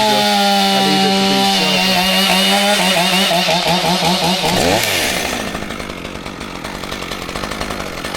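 A chainsaw cuts into a dead, crispy oak tree. The engine screams loud and close at high revs, then drops to a lower, rougher rumble as it bites into the wood.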